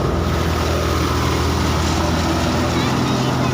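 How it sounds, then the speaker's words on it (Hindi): A tractor hauling wheat to a threshing site runs with a loud, steady engine drone that never lets up, and a voice is partly heard over it. "ट्रैक्टर स्टार्ट हो जाएगा।"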